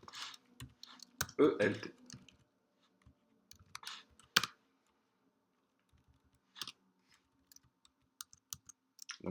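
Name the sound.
typing Java code on a computer keyboard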